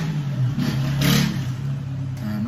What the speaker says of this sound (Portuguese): um barulho muito grande, de perua também